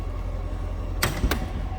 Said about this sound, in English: Let's pop this hood